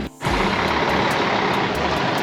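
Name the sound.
trucks at port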